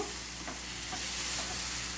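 Soaked lentils are stir-fried in hot oil for khichuri, producing a dense, continuous close sizzle with a faint rhythmic scrape of stirring running underneath.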